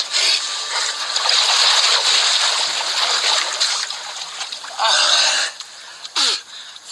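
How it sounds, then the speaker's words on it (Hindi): A person takes a dip in a murky water spring, making close, loud sloshing and splashing that surges, pauses, then returns in short bursts, with brief breathy vocal sounds. "इसे रख देता हूं, मुझे डुबकी लगानी है।"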